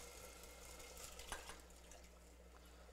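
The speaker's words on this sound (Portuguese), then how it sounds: "E vamos acrescentar a água." Water is poured onto cornmeal in a pan while making polenta for a chicken dish, a steady, soft rushing and trickling close by over continuous kitchen background noise.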